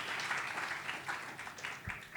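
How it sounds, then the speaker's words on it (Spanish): Audience applause at a talk on healthy ageing and the modern city, a short, soft patter of many hands clapping at moderate distance, fairly steady throughout. "Sí, un aplauso."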